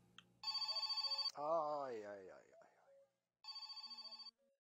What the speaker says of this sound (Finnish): Aha, Jokke soittaa kännissä.